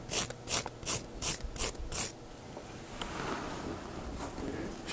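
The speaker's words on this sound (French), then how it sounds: "Je vais vous montrer avec la lime qu'est-ce que ça fait." A hand file scrapes back and forth along the edge of a 3D-printed plastic part, giving several distinct rasping strokes in a steady rhythm, close and fairly clear, then easing into a softer continuous rubbing.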